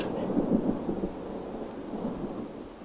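Thunder rumbles low and steady with rain falling outside on a cold night, a continuous broad wash at moderate level with no voices.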